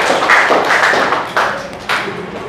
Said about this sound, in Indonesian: Kasih tepuk tangan untuk Nadine dan juga Agus ya.